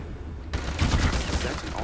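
Red Faction gunfire: after half a second of near quiet, a loud burst of rapid bullet fire erupts and rattles on steadily to the end.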